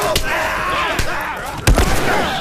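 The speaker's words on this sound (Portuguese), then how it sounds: "Olha, está tudo aos tiros." Gunfire in The Last of Us Remastered, three sharp separate shots spaced through a tense game scene, with a player talking over the action.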